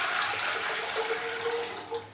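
Water being poured back into a container for watering potted cymbidium orchids, a steady close splashing and trickling stream that runs throughout with a few small gurgles.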